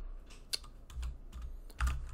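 Computer keyboard keys tapped out a terminal command on an Ubuntu machine, a short run of close, distinct clicks at uneven spacing with a couple of sharper, heavier keystrokes, one near the end likely the enter key.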